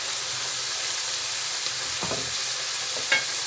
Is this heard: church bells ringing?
no